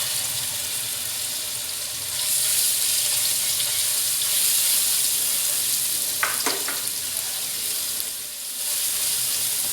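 Garlic paste sizzles and fries steadily in hot oil in a pan, a continuous close hiss with a few brief clinks of a utensil partway through.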